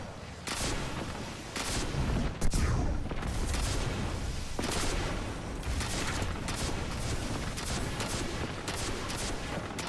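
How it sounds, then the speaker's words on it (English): A Bait and Switch rocket launcher in Destiny 2 fires repeatedly, each launch a loud boom followed by blasts, in a steady sequence of heavy shots with game ambience between them. "I also got a hold of an Envious Arsenal and bait and switch rocket launcher, which I went and tested out"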